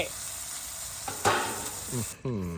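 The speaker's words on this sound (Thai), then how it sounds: "เนี่ยเราเราก็มาผัดแบบนี้นะครับ" Vegetables are stir-fried in a pan with a constant sizzle and a sharp scrape of the spatula midway, then a short voice-like sound at the end.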